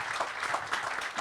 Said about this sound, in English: So let's give them a huge round of applause.